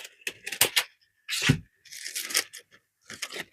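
Scissors cut and crunch through crepe paper while a large daisy flower is being made, giving a close series of papery snips and rustles in irregular short bursts with pauses, no talk.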